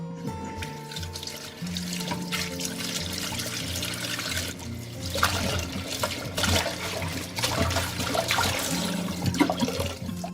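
Running water pours steadily from a tap into a sink while Korean radish, muddy with soil, is rinsed under it, with a continuous close splashing rush and some louder surges midway.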